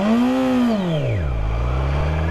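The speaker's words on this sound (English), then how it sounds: "that's when you hear the bike revving up." A motorcycle engine revs from too much throttle before the clutch is eased out. One loud, close rise in pitch is followed by a quick drop to a low idle rumble.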